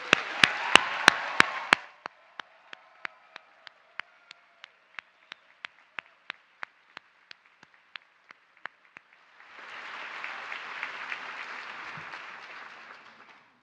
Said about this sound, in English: please join me in a hearty round of applause for this awesome group